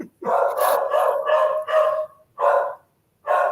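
A dog barks loudly and close by in a burst of drawn-out, howling barks, five calls with short pauses between them and no other sound.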